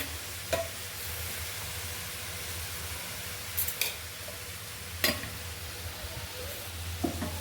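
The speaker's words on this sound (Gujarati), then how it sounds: "કઢીનો તો થોડીક વાર ઉકળવા દઈશ બે મિનિટ સુધી અને એક ચમચી જેટલી આપણે ખાંડ એડ કરીશું એમાં" Kadhi simmers on a low flame as sugar is stirred into the pot, with a steady sizzling bubble underneath and a few sharp clicks of the spoon against the vessel.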